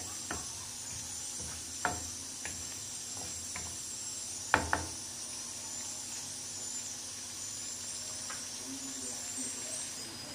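Garlic and coriander with green chilli and puree sauté in a pan for okra masala curry, a soft steady sizzle broken by a few clicks and scrapes of stirring, faint and close.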